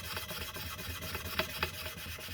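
A Craftsman axe being sharpened, with steady rhythmic rasping strokes of a file or stone across the blade, close and even, two slightly louder scrapes partway through.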